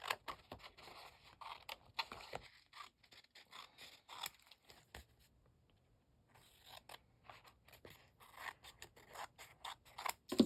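Scissors cut paper for a bird-themed junk journal in a quiet room: crisp, close snips come in quick bursts, then a pause near the middle before more cutting resumes toward the end.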